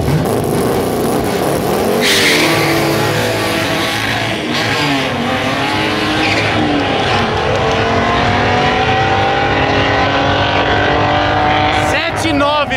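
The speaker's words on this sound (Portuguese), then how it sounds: "Pega esse Dodge acelerando, parece que vai empinar, ó." A Dodge drag car accelerating down a drag strip, a loud roaring engine climbing in pitch throughout, with people talking over it.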